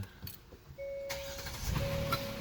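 A 2020 Hyundai Palisade engine cranks and catches, then settles into a steady idle, close and fairly quiet with no talking.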